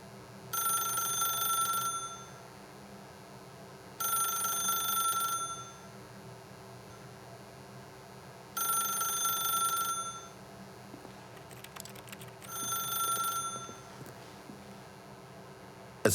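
A telephone rings in the video game The Stanley Parable. The ring comes in four separate bursts, each about a second and a half long, with quiet gaps between them over a low ambient hum. The last burst is shorter.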